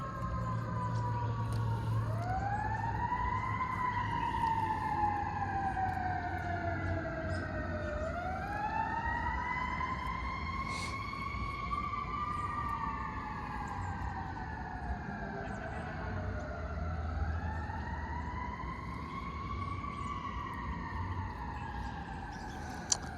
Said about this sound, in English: Hear a bunch of sirens.